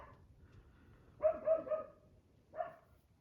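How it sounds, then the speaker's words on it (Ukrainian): A neighbour's dog barks a few times in a short cluster, then once more after a pause, moderately distant against a quiet garden background. "Собака сусідська гавкає."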